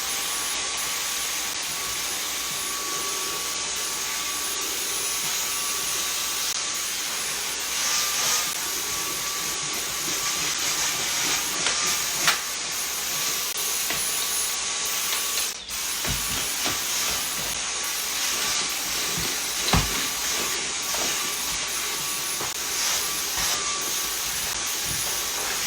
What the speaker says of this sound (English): so I'm just gonna vacuum.